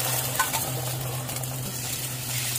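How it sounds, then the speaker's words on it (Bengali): Eggs for three people frying together in a single wok, a continuous close sizzle with faint stirring and scraping over a low steady hum, no talking. "এই ৩ জনের ডিম একসাথে রান্না করে ফেলে একই সাথে একই কড়াইয়ে।"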